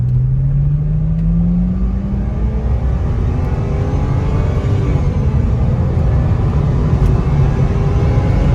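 A BMW 328i in sport mode revs up hard and keeps pulling, its pitch climbing steadily under a loud, constant road and wind rumble.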